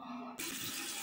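Tap water suddenly gushes on and runs loudly and steadily while foam is rinsed out of hair, preceded by a brief quieter moment with a low hum.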